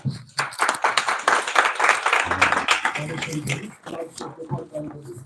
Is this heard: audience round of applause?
yes